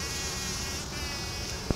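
Bees buzz while pollinating flowers, a steady close insect drone that holds throughout with a brief click near the end.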